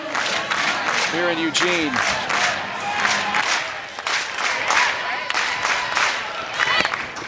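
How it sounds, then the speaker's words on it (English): A sellout college softball crowd in Eugene fills the stadium with steady cheering and clapping beneath a commentator talking throughout. "Another sellout crowd at the Jane on a perfect Saturday"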